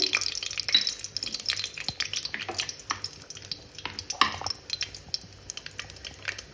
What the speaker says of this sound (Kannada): ಇವೆಲ್ಲ ಜೀರಿಗೆ, ಸಾಸಿವೆ ಚಟಪಟ ಅಂದಮೇಲೆ